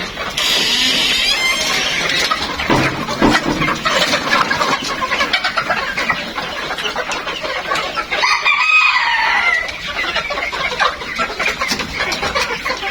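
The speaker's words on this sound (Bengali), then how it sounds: "সবই কিন্তু অরিজিনাল মিশ্র ফার্ম মুরগি" Egyptian Fayoumi chickens on a farm cluck and crow almost continuously, several birds close by, with a low engine-like rumble underneath.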